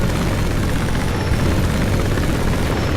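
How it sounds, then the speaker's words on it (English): An American helicopter in the video game Battlefield Somalia gives a steady, loud rotor and engine drone that holds unbroken for the whole few seconds. "we will chase this American helicopter all the way back home to Washington"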